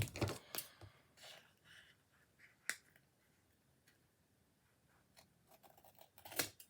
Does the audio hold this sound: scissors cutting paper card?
yes